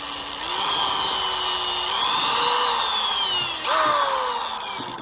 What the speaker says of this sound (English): as close to the edge as possible, I am going to drill a hole